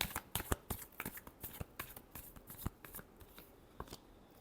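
Tarot cards being shuffled by hand, a steady run of quick crisp riffling snaps close up, continuous for several seconds.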